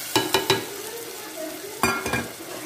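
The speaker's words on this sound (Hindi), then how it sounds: "इसको अच्छा सा भून, और ये देखिए साथ में मैं इसमें टमाटर भी ऐड कर देती हूँ।" Ground onions fry with tomatoes in a pan for Maggi noodles. A low sizzle sits under quick bursts of a spoon knocking and scraping against the pan, in two clusters of three strokes.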